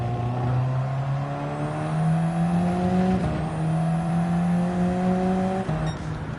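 Race car lapping a track in Gran Turismo 7, a steady high engine drone holding pitch, with a gear change partway and a brief drop near the end, heard alone without talk.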